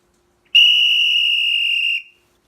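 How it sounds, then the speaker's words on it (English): A single steady, high whistled note sounds alone after a moment of silence and holds for about a second and a half before cutting off cleanly. "Whistles."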